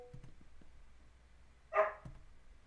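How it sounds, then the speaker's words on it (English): A single short dog bark sounds indoors, moderately loud against a quiet room with faint background noise before and after. "I don't know if you guys heard that. That's my dog."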